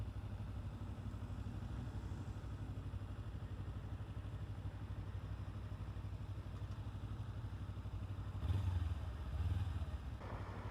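Motorcycle engine running low and steady on a hot bike, a quiet rumbling drone with faint clatter, swelling briefly a couple of times near the end.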